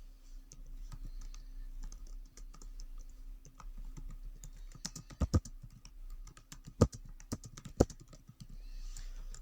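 Computer keyboard keys clicking steadily while JavaScript code is written, a dense run of close, light taps with a few sharper, louder strokes near the end.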